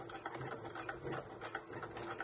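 A sewing machine stitches fabric for a fold-over clutch bag, running a few stitches forward and a few back in a quiet, rapid, even rhythm.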